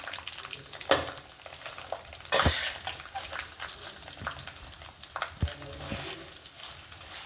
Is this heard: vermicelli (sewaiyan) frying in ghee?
yes